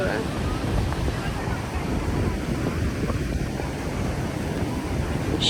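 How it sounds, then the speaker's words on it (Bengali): Sea waves roar steadily along the shore while wind buffets the microphone, making a loud, constant rushing wash close by. "সমুদ্রের গর্জন আর হচ্ছে মুক্ত বাতাস।"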